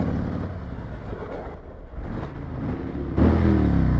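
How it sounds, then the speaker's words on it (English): A Harley-Davidson motorcycle engine revs in a tunnel, a loud reverberant rumble that dips slightly and then surges louder with a sharp throttle blip near the end. "I don't winterize this Harley. But I do rev bomb the tunnels."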